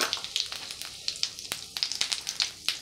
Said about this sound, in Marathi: आपण तेलात फोडणीला घालूया जिरं,